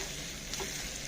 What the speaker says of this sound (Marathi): आता 2 सेकंदासाठी मी जरा गॅस फास्ट केलाय आणि जरा असं परतून घेते.